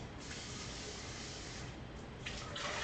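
Bowl rinsed under a kitchen tap while cooking potato pancakes, a steady close hiss of spraying water that swells slightly near the end.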